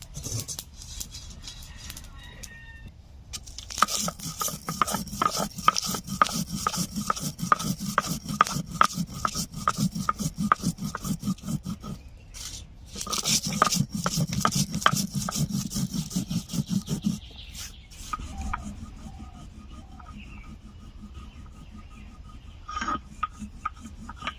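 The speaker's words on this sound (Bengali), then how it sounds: "এখন নামিয়ে ভাজা মশলাটা বেটে নিচ্ছি" Steady rhythmic grinding and rubbing of roasted cumin and spices on a stone, in long bursts with short pauses, close and fairly loud.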